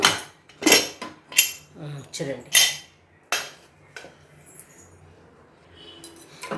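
A pressure cooker of mango dal is opened: several loud metallic clanks and rattles of the lid and weight in quick bursts, then quieter scraping and faint clinks.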